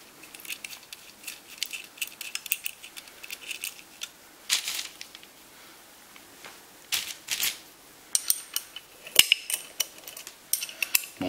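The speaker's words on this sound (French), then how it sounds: "Maintenant on démonte les écrous de 10 qui servent ici à démonter la coquille échappement." Someone works on the exhaust housing of a GT1749V turbo, making close, scattered metallic clicks and rattles of a wrench on 10 mm nuts, with irregular bursts between quiet pauses.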